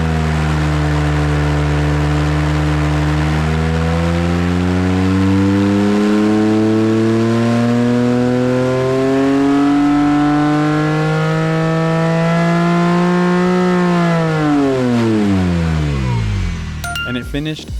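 A Porsche 997.1 Carrera S with a 4.1-litre engine revs on a dyno, a loud close sweep climbing smoothly to high rpm, holding, then dropping away sharply near the end.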